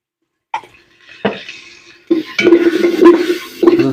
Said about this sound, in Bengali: হলুদটাকে একটু নেড়ে নিলাম।